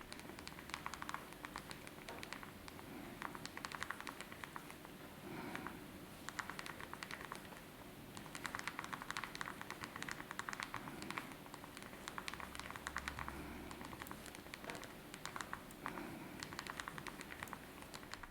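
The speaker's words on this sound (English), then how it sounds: "now you're going to hear and watch a video of me typing a text, so you can get an idea of how loud the keys are" Typing a text on the physical keyboard of a BlackBerry Passport phone produces a quiet, continuous patter of small key clicks in an uneven rhythm, close up and faint, with no talk.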